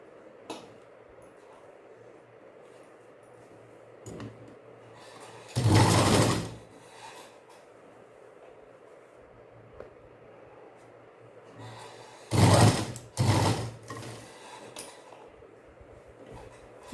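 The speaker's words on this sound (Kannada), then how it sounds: "ಹೀಗೆ ಸುತ್ತಲೂ ಕೂಡ ನೀಟಾಗಿ ಹೊಲಿಬೇಕು." A sewing machine stitches around a churidar neck in two short bursts, the second broken into two quick runs, separated by quiet pauses with faint handling noises.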